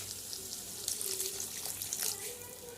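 Water poured into a pot of chicken curry on the stove, a steady splashing, trickling stream heard close and fairly quiet, running throughout with no voices.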